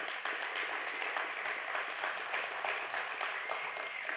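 Audience applause at the 2024 Santa Monica State of the City event, a steady dense wash of many hands clapping throughout, moderately loud with no voices over it.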